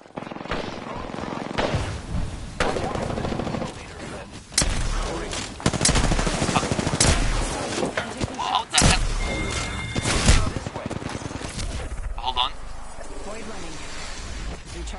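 Bursts of gunfire and impacts strike the player in a shooter video game, loud and dense over the game's mix, with a few heavier thumps and no talk.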